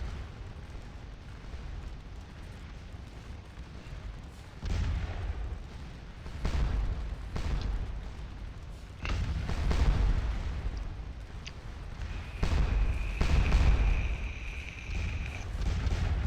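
Musket volleys ring out across a Scourge of War Remastered battlefield, with repeated rolling booms and crackling bursts of gunfire in uneven waves, loud and dense, and a faint tonal call near the end.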